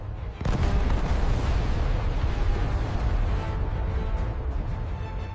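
Incoming missile explosions in a war simulation, a heavy rumbling blast that erupts half a second in and rolls on as a continuous, loud, booming roar with crackling debris to the end.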